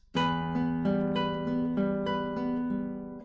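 Nylon-string classical guitar notes are fingerpicked one after another in an even, ringing pattern, close and clear, with two open strings sustaining underneath.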